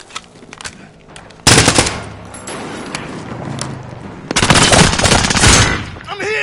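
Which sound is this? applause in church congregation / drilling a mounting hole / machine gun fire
machine gun fire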